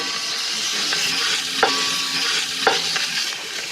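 Lamb meat fries loudly with pancetta and garlic in a pan, a steady close sizzle broken by a couple of sharp utensil taps.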